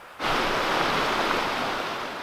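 A river rushes in the woods, heard from where the car is parked a good distance away; a sudden, steady broadband roar of flowing water sets in and holds constant with no talk.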